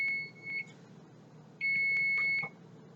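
A kitchen oven timer beeps in two bursts: a short pair of tones, a brief pause, then a longer steady beep, loud and close over a quiet room hum.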